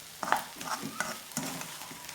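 Sardine pie filling seasoned with black pepper is stirred in a pan, quiet sizzling broken by a few sharp scraping and clinking strokes of the spoon, close and alone.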